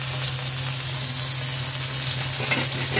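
Hot cooking oil sizzling in a pan for kaldereta, a constant crackling fry over a low steady hum, with faint stirring and no talking.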